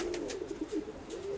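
Domestic racing pigeons coo with a low, steady throaty murmur, close by and continuous through the brief moment, alone without talking, against light background noise.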